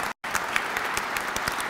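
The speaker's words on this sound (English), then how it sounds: "join me in giving them another round of applause" Audience applause at a 100th Anniversary of Albania event in Washington D.C., a dense, steady clatter of many clapping hands after a brief gap of silence, filling the room without voices.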